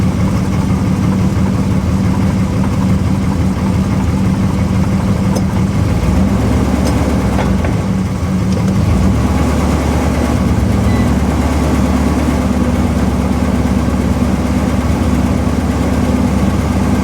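A 1969 Plymouth Fury III engine runs steadily at a low idle, its hum shifting in pitch and load partway through as the transmission is put into reverse and then into drive, heard up close with no talking.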